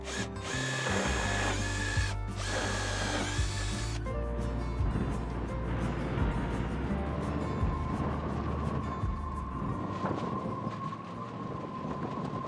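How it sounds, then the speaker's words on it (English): A power drill bores holes in a boat's cradle and deck, whirring steadily and close with a few short bursts at the start before one long continuous run. "measure and drill the holes in the cradle and in the deck"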